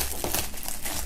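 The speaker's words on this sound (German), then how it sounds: "Einmal hier einschneiden und dann ab mit der Folie." Plastic shrink film crinkles loudly and briefly up close as it is cut and pulled off the 'Stunde Null – Alles voller Welt' box during an unboxing.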